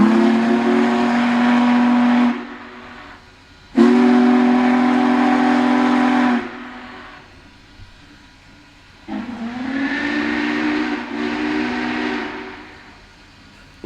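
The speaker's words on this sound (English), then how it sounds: "Any way you look at it, this is one monster of a locomotive." Union Pacific Big Boy 4014 steam locomotive leaving Granger, Wyoming, sounding long, loud, deep chime whistle blasts, three drawn-out calls separated by gaps filled with low rumbling.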